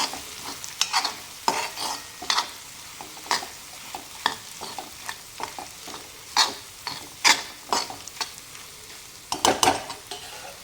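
Peanut powder being stirred into a pea curry in a pan over low heat, with a soft background sizzle. Rhythmic, close scraping strokes recur every second or so.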